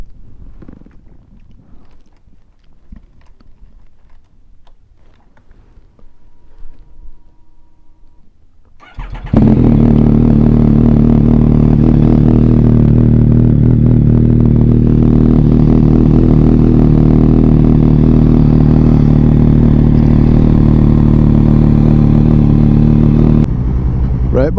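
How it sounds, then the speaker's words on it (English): Yamaha MT-09 motorcycle cold start: quiet shuffling at first, then the engine catches abruptly and settles into a loud, steady, close rumbling idle that cuts off sharply near the end. "I'll get a bit of a cold start."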